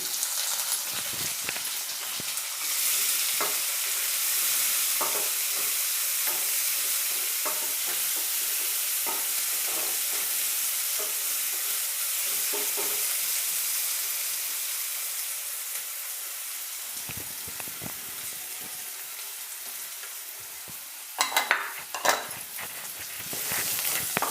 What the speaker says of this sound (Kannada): ಈರುಳ್ಳಿನ ಸಣ್ಣ ಸಣ್ಣದಾಗಿ ಕಟ್ ಮಾಡಿದ್ದೀನಿ ಇದನ್ನು ಸೇರಿಸ್ತಾ ಇದ್ದೀನಿ